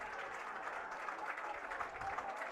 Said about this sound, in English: The crowd celebrates.